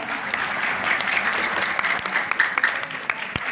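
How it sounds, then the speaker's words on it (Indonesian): Audience applause at an Indonesian gathering, dense and steady throughout, with sharper claps and faint voices mixed in. "Boleh dong tepuk tangan sekali lagi untuk kita semua."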